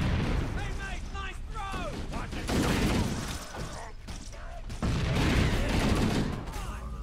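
Gunfire in the video game Halo: Combat Evolved, in continuous bursts mixed with blasts and game effects. A voice talks over much of the din, and the firing grows heavier in a few loud stretches.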